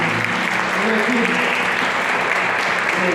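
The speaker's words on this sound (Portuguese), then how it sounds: "Aplauda Jesus mais uma vez." Church congregation applauding during a Portuguese-language sermon, a dense steady wash of many hands clapping throughout, with faint voices mixed beneath the sustained roar.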